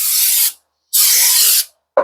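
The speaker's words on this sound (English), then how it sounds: "another spray" Two long hissing bursts of spray cleaner applied to a rear brake rotor during pad and rotor work on a 2023 Subaru Crosstrek, separated by a short pause, close and loud.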